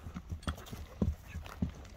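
Hooves of stout horses clip-clop on hard ground at a horse sale, several uneven close strikes landing over about two seconds.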